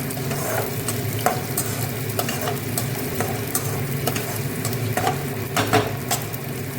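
Gobindobhog rice fries with tempering spices in a pan, giving a steady close sizzle broken by repeated scraping stirs throughout, with no talking.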